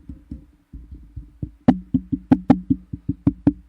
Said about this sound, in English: there's a lot of knocking coming in